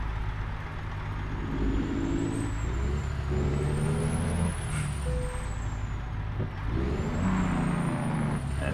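A Freightliner Argosy truck engine in American Truck Simulator rumbles steadily throughout, with a sharp hiss of air brakes and rising, falling whines as the truck shifts and accelerates.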